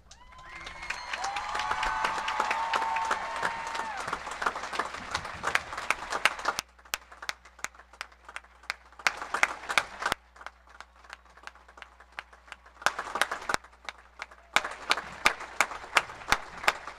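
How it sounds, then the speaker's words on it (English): Audience applause fills a high school graduation ceremony, a sustained burst of clapping and cheering for several seconds, then scattered individual claps and brief renewed bursts of clapping in a large hall. "give the Beechers another round of applause"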